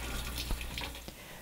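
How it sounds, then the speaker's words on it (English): Produce such as peppers rinsed under cool running tap water at a sink, a steady close hiss of flowing water with faint splashes and no talk. "rinsing thoroughly under cool running water"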